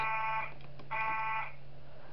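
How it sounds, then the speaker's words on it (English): An electronic alarm tone in the video game Five Nights at Wario's sounds in two steady bursts, each about half a second long, over a low constant hum. "Okay, I sound the alarm."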